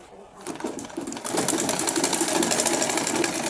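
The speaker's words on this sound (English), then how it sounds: "Ensure you're sewing from the down part of this fabric." A domestic sewing machine stitching a length of fabric for an auto gele headtie, running in a steady rapid whir that picks up after a brief start and holds close and continuous to the end.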